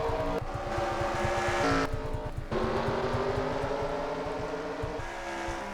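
Race cars in a sim racing game, a NASCAR-style cup series race at Mosport, roar loudly and continuously, their engines shifting pitch and revving as several cars pass close by.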